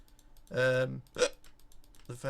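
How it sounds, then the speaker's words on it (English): A single short hiccup bursts out between stretches of a man's speech, brief and sharp, close to the mic. "I'm sorry, I got hiccups as well now"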